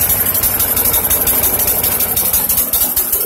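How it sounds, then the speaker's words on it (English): A lawn mower engine runs on dirty fuel and fumes as it warms up, a loud, close, rough idle with a fast, uneven pulsing chug and rattling vibration, with no voices. "Watch it take its time to start warming itself up, and then once it warms up, the choke opens up and it runs like a champ."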